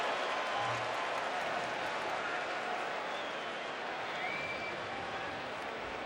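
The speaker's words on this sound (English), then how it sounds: "Good crowd still on hand." At a Phillies vs Cubs baseball game in May 2019, the crowd makes a steady, diffuse murmur, a constant wash of distant voices and faint scattered clapping that stays at an even level throughout.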